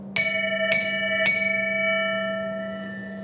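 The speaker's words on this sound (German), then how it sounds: "Komm, einmal zum Geburtstag die Glocke." A ship's bell aboard the AIDAnova cruise ship is struck three times in slow succession, bright metallic clangs ringing out clearly and leaving a long sustained hum that fades away.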